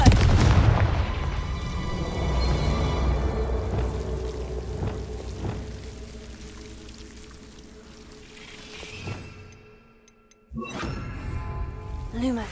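Confringo fire spells in the Hogwarts Legacy video game erupt as a run of booming blasts over a dense game soundscape, fading toward a lull before one more sharp burst.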